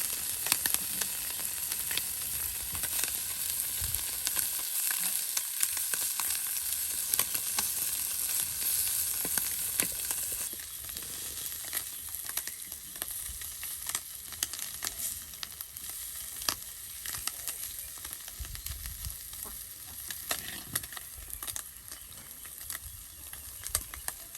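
Small puti fish fry in a pan with a constant close sizzle and hiss, lightly crackling and spitting, with no talk over it.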